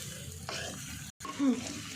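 Pasta being stirred in a pan over a low flame, a soft scraping and sizzling texture that runs steadily, broken by a brief silent gap, then a slightly louder stir near the end.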